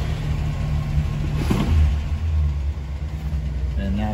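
A 1976 Buick Regal engine runs steadily as it warms toward idle, a continuous low rumble close by with a brief swell of revs near the middle.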